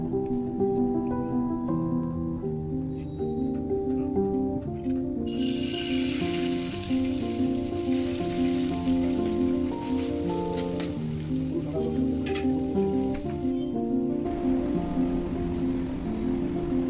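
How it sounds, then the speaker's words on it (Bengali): Noodles deep-frying in oil in a wok, a steady hiss and sizzle that swells after a few seconds and runs on under continuous background music. "নুডলসটাকে এবারে আমি ক্রিপসি করে নেব। তার জন্য কড়াইয়ে তেল দিলাম,"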